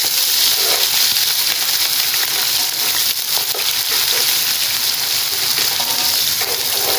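Garlic and ginger sizzle in hot oil for chana pulao, a loud, continuous close-up frying hiss with faint stirring through it and no talking.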